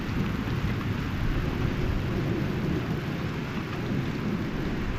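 A thunderstorm, the first cool storm in over a year, with steady heavy rain and deep rolling thunder filling the whole stretch, loud and continuous with no voices.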